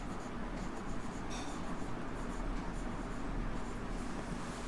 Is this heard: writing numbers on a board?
yes